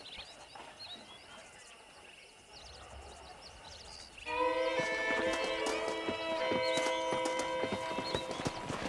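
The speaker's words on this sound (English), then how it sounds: "Let's see if we can't wrangle some horses." Quiet outdoor ambience with birds, then horses in Red Dead Redemption break in loudly with rapid clip-clopping hooves and a bright whinny, busy and close.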